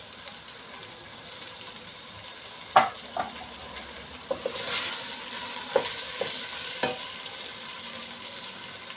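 Chicken soup base sautéing in a pot with black pepper, chili flakes, turmeric and salt gives a steady low sizzle, punctuated by occasional clinks and scrapes of stirring, with no talk.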